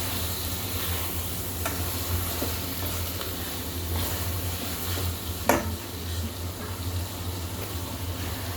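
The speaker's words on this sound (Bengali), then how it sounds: "নেড়ে চেড়ে মশলাগুলো এবার সুন্দর করে সবজির সাথে মিশিয়ে" Ridge gourd and potato cooking with spices in a pan, a continuous sizzle under occasional stirring scrapes and one sharper clink partway through, no voices.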